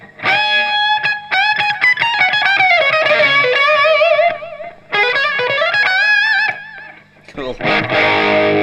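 Electric guitar played through a Boss FDR-1 Deluxe Reverb pedal, loud and close, with ringing sustained notes and bends and a distorted, effected tone, ending in a short burst of noise.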